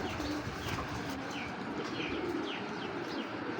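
Laldom and Shapla dom pigeons coo steadily in a loft, soft overlapping calls and occasional chirps blending into a dense, continuous bed of bird noise, with no talk.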